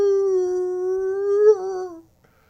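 A person imitates a dog howling on a podcast, holding one long, loud, steady howl for about two seconds before it bends downward and trails off into silence.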